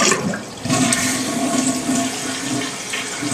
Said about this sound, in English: So when you lift up on the handle,